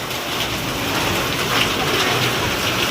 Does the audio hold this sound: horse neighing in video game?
no